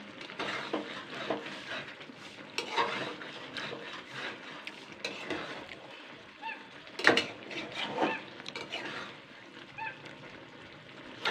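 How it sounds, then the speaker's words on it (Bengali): Winter vegetables, including beans and eggplant, for chapor ghonto are stirred in a pot as they simmer, giving uneven clinks and scrapes of a spoon against metal with a low bubbling underneath. "এবার এগুলো দিয়ে কিন্তু নাড়াচাড়া করতে হবে"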